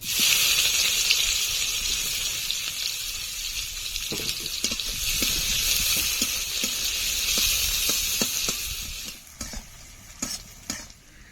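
Whole cumin, dried red chilli and chopped onion fry in hot oil for a Bengali bhola fish tel jhal, a steady loud sizzle with scattered stirring clicks, easing off near the end into quieter sputters and a few sharp scrapes.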